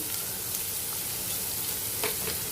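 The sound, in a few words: onion frying in pan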